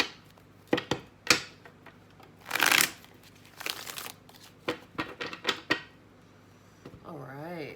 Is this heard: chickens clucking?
no